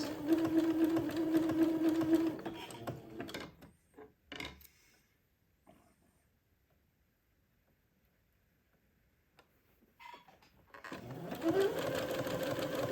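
A sewing machine zigzag stitches lace to entredeux in steady close bursts of rapid whirring, stopping for a long quiet pause before starting again.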